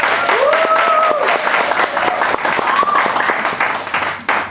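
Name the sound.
audience applause for a speaker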